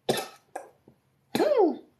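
Close to the mic, a person coughs twice, briefly. After a small click, a longer, rasping, throaty cough follows, with quiet between the bursts.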